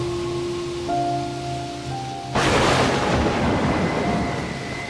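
Cartoon-style heavy rain and thunder effect: a low tonal musical hum fades as a sudden loud thunderclap bursts in, followed by a dense, steady roar of pouring rain that carries on to the end.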